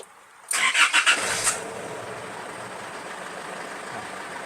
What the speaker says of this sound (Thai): เดี๋ยวผมสตาร์ทรถนะครับ